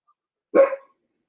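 A single short, sharp bark from a dog at moderate distance cuts through an otherwise silent background, lasting about a third of a second.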